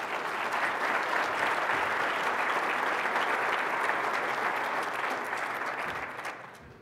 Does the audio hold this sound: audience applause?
yes